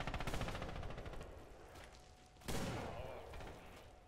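Gunfire in Red Orchestra 2 clatters in a dense, sustained automatic barrage, with a louder burst partway through, heavy and reverberant, no talking heard.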